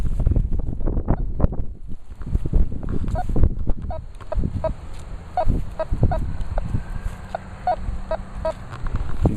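A metal detector sounds a target tone for a dime, repeating as short, evenly spaced beeps over steady outdoor wind and rustle in the second half.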